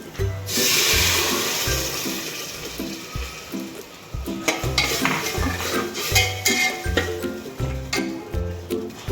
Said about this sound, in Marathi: आता कांदा भाजलेला आहे आपला लालसर, आणि त्याच्यामध्ये हे पाणी घालून घेऊया